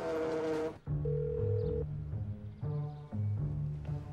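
A mobile phone rings for an incoming call in a Turkish TV drama scene, playing a loud, close melodic ringtone of repeating steady tones with brief pauses and no talking.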